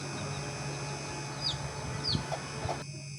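A chicken clucks and squawks a few times over a steady hum of background noise, moderately close.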